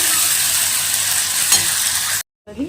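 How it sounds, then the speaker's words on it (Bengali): Spice paste for koi fish curry stir-fried in hot oil with black cumin seeds, giving a steady loud sizzle with stirring scrapes, then a brief silence before a quieter burst of frying. "পুরো মশলাটা আমি ভালো করে কষবো"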